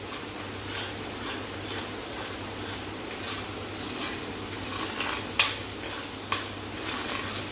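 Onions with ginger garlic paste sizzle softly in a pan while being stirred, a low continuous fry broken by two sharp clinks of the spoon against the pan near the end, with a faint steady hum underneath.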